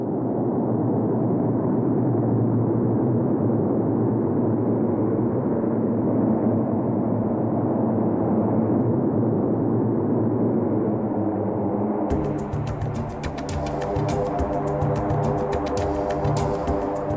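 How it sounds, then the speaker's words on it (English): Hercules transport plane's engines roaring in reverse thrust as it brakes hard on landing, a loud sustained broadband rumble that shifts in character partway through as the engines change pitch. "He slams on the brakes and puts the engines into reverse."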